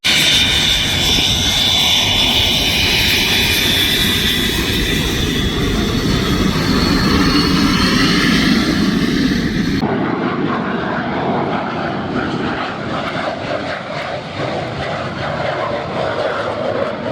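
A P-40 propeller fighter plane flying at an airshow gives a loud, steady engine roar that holds throughout, then shifts tone partway as the aircraft passes, with no voices.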